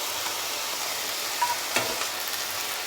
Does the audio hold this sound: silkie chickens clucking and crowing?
no